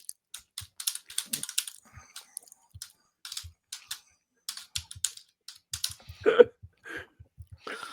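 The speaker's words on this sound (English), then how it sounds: "You clacking those keys never stops being funny to me." Rapid, irregular clacking of keys on a computer keyboard, close and crisp, arriving in uneven bursts with short pauses in a quiet room.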